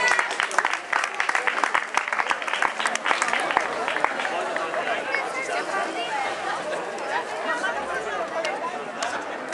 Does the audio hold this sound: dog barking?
no